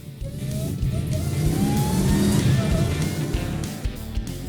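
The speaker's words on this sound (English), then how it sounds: "a Superbird tribute with Janik fiberglass conversion parts, a 707 horsepower Hellcrate engine, and a 6-speed manual transmission" A Superbird tribute car with Janik fiberglass conversion parts, a 707 hp Hellcrate engine and six-speed manual revs loudly and steadily, its deep engine roar rising and falling close by with no talk.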